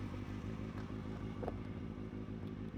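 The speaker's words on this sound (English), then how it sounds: "I hope you can hear my motorcycle as well." A motorcycle being ridden, its engine giving a low, steady rumble that drones on continuously throughout.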